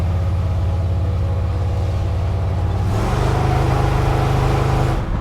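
A 1955 Chevrolet Apache pro touring truck with a 502 big block engine drives along, its deep steady rumble swelling louder midway as the engine works harder, with no voices.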